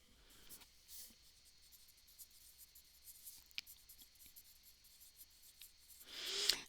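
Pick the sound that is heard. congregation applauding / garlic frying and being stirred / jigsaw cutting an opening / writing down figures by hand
writing down figures by hand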